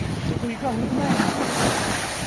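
Sea waves on the Baltic shore heard as a continuous rushing surf, mixed with wind buffeting the microphone. Moderately loud and close, with no clear speech.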